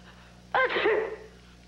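A single sudden sneeze from a character in a US TV show, one sharp burst that trails off within about half a second, close and clear over a quiet background hum.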